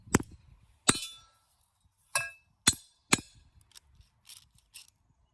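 A broken Snap-on ratchet being worked back and forth, giving a handful of sharp, close metallic clicks and knocks spaced irregularly over a quiet background.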